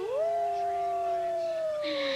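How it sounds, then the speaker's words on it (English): A single drawn-out canine howl rises, then holds a long steady wailing tone with a second voice joining near the end, clear and fairly close with no talking. "What about those coyotes?"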